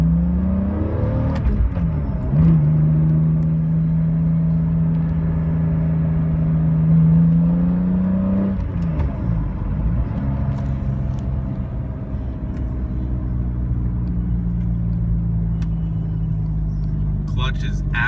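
A BMW E46 M3 with an aftermarket exhaust runs steadily from inside the cabin, its engine tone rising and falling through gear changes, a loud continuous hum.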